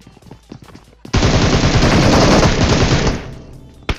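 Automatic gunfire erupts in a PUBG match against bots, a sustained, loud burst of rapid shots lasting about two seconds, preceded and followed by a few scattered single shots and faint game sounds.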